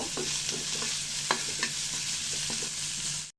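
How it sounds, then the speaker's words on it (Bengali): Onion and garlic frying in hot oil, a continuous close sizzle broken by the scrape and clink of a spatula stirring, with no voices, cutting off abruptly at the end. "আমি পেঁয়াজ রসুনটা ভেজে নিয়েছি"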